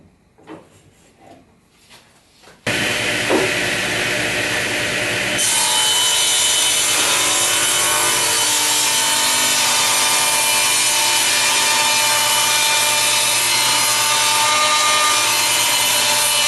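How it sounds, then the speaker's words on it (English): A table saw cuts wood pieces to final cabinet dimensions in a shop, starting abruptly after a few quiet seconds of handling and then roaring on as a loud, steady, continuous whine. "set my saw here to the final dimensions and make sure everything gets cut right"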